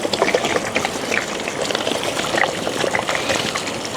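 Liquid is poured generously over a large heap of dry fruits being soaked for a Christmas plum cake, a continuous close splashing and trickling wash with no speech.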